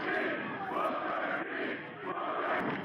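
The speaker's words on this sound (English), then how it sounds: "So the crowd giving that Booker T" Wrestling crowd at an independent show chanting together, a loud, dense wall of voices swelling in rhythmic waves with no single speaker standing out.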